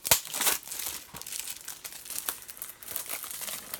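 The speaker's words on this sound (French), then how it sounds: "Si je le déballe également." Plastic wrap being torn and crumpled off a Green Book 4K Ultra HD Blu-ray case, a close, steady run of crinkling and crackling with sharp tearing bursts, no voices.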